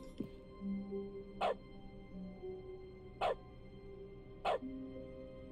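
A dog gives three short, sharp barks spaced a couple of seconds apart, each one distinct and fairly close, over a quiet background with faint sustained tones.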